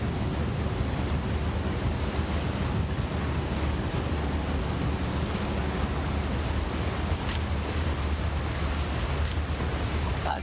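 Lake water in the video game Far Cry 6 laps and washes in a continuous broadband rush, with no voices. A faint click sounds near the end.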